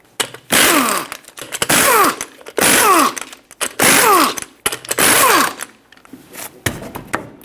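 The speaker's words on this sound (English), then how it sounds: "Use a 19mm socket, remove all 5 lug nuts, and then pull the wheel off." Lug nuts coming off the front wheel of a 2008-2012 Honda Accord with a 19mm socket: five loud, evenly spaced whirring power-tool bursts of about a second each, separated by short pauses, with no talking.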